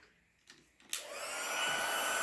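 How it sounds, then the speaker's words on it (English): An embossing heat gun switches on for a paper card craft, a sudden loud steady airy roar after a brief click and rustle, blowing continuously and close. "Now we're going to turn on our embossing gun"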